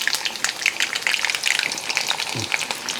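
Garlic hits hot oil with mustard seeds in a pan for ginger curry, giving a steady close sizzle with scattered popping crackles and a soft stir near the end.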